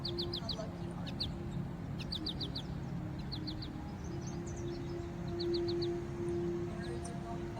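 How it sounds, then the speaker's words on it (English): Birds chirp outdoors in short repeated bursts of quick high calls, fairly faint and scattered over a steady hum and low background noise. "Birds are going by."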